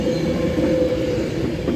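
A Class 390 Pendolino on an Avanti West Coast service to London Euston arrives at Stoke-on-Trent station, a continuous loud rumble of wheels and traction with a steady tonal hum, close at hand.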